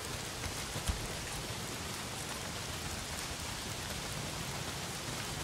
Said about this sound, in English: Not if it's pissing down the rain.